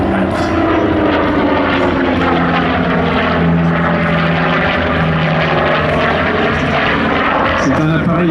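Steady droning roar of a single-engine Douglas Skyraider propeller warplane flying at an airshow, loud and continuous throughout, with someone talking over it in French.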